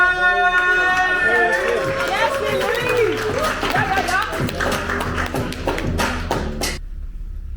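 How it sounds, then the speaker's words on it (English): An audience applauds for Christopher, with a dense patter of clapping and some crowd voices and chatter before the sound cuts off abruptly. "Round of applause right now for Christopher."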